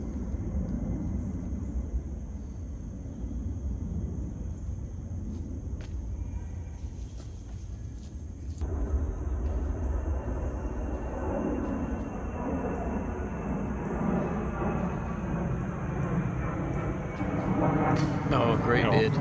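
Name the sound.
airplane flying overhead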